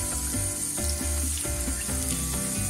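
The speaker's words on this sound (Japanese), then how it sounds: "流水で解凍をかけてください。" Tap water running steadily over frozen yellowtail fish blocks to thaw them, a continuous close splashing hiss with small irregular knocks, and no talking.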